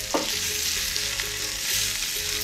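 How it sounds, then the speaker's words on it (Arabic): Bacon pieces fry in hot oil with a continuous close sizzle and light crackling, plus a brief utensil stir near the start, no voices. "وهننزل البيكن عشان يتحمر في الزيت"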